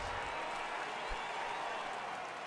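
A home crowd in a PS4 baseball video game cheers and applauds as a steady, broad roar that holds evenly throughout without breaks.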